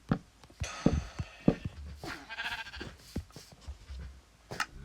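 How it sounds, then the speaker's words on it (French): A sheep in the Minecraft video game gives a series of short, nasal bleats at uneven intervals, fairly quiet and close, with no talk over them. "j'essaie de faire rentrer le mouton"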